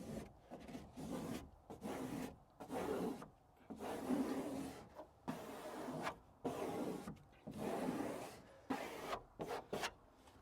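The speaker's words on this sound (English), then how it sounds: "And just squeegee everything out." Repeated rubbing and rasping strokes of a squeegee pressing trapped air out from under XPel protective film on a Cybertruck's stainless panel, coming in steady bursts with short pauses between passes, close and fairly quiet.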